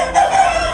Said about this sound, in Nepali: एउटा भाले रहेछ ल।